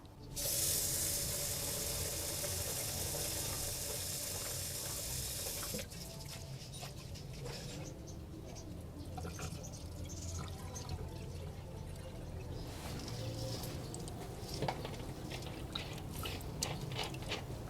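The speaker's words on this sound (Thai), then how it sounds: "เราจะนำข้าวมาล้างทำความสะอาดสักสองรอบนะคะ" Soaked rice being rinsed and washed in water, with a steady running-water and sink sound, loud and continuous at first, then softer splashing and sloshing throughout, no talking.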